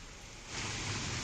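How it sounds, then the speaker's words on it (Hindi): Heavy rain in Sawai Madhopur, Rajasthan hisses as a steady broadband wash, swelling louder midway and continuing without a break. "सवाई माधोपुर जिले में रात को 12 बजे से लगातार मूसलाधार बारिश पड़ रही है"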